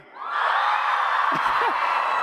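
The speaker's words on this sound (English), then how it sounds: "All right, let me hear you at the top. Let me hear you scream!" A large convention crowd at a TwitchCon panel in Amsterdam erupts in a sustained, loud wall of screaming and cheering that swells within a fraction of a second and holds steady, with a few individual yells poking through.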